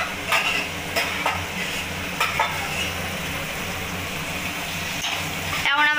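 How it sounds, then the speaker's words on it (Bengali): Chicken pieces going into spiced hot oil and being stirred, a steady sizzle with periodic scraping strokes of a spoon against the pan and a louder hiss near the end. "এখন আমরা চিকেনগুলো দিয়ে দিচ্ছি।"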